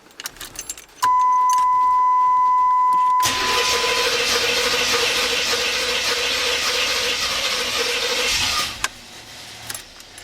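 A 1989 Pontiac Trans Am, just fitted with a new fuel pump, cranks over after a brief electrical chime, the starter whirring loudly and steadily for several seconds before stopping with a click.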